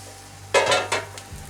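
Roasted potatoes tossed in a hot pan: two short bursts of clattering, scraping stirring with a faint sizzle, close by, and quiet before and after.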